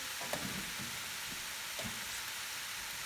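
Beef stir fry sizzling steadily in a hot pan, a continuous hiss-like crackle with a few soft scraping stirs, no voices.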